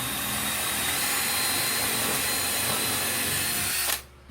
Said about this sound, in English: I was going to drill all the way through